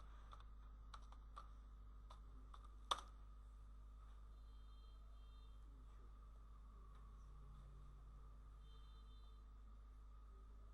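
Typing on a computer keyboard in a quiet room, a few light key clicks in a short burst and one sharper tap, all faint over a low steady hum, with no talking.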